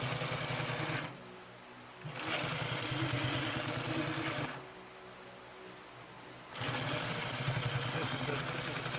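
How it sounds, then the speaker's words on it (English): A Consew P2339RB double-needle walking foot upholstery sewing machine stitches through double-layer material and climbs over seams, its rapid steady mechanical chatter running in two long bursts separated by short pauses. "This is a typical type thing you'll be doing when you're sewing, is climbing over seams."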